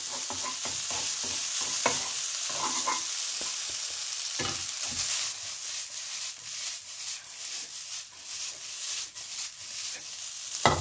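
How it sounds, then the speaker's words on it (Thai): Garlic fried rice with pork sausage being stir-fried in a pan, a steady close sizzle with repeated scraping and tossing strokes of the spatula throughout, no voices. "ผัดจนข้าวมันเริ่มบีบตัวนะครับผม"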